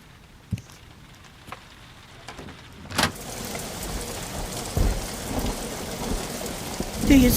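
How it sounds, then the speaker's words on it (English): Steady rain falls onto an empty dooryard and canal, a loud thunderclap cracking in partway through and leaving a dense, continuous downpour with a low rumble that builds toward the end; no voices. "Rain from the black sky, falling into an empty dooryard, into the canal"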